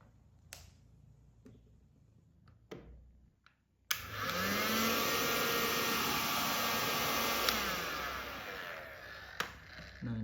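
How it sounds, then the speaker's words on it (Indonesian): A few soft clicks and taps sound, then a heat gun switches on with a sudden loud, steady blowing whine of fan and hot air that runs continuously in a small room. "kita panaskan ruangan tersebut menggunakan heatgun"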